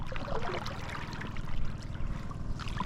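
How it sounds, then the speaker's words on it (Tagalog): Sea water washing and churning continuously along a shore during a fishing outing in Palawan, a steady broadband wash with rising surges, close and moderately loud, with no voices. "Pag dumampas ang alon dito, grabe."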